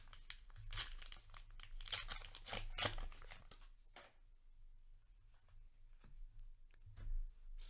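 A Flesh and Blood card booster pack wrapper being torn open and crumpled close by, with bursts of crinkling and tearing that ease off, then a few more rustles near the end.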